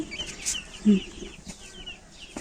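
Three-day-old broiler chicks in a village poultry shed, scattered soft chirps and peeps at close range, with one louder cheep near the middle.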